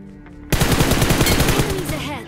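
Rapid bursts of automatic gunfire from a PUBG match on the Livik map erupt suddenly after a quiet moment, loud and close, with a dense stuttering rhythm of many shots that slowly tapers off.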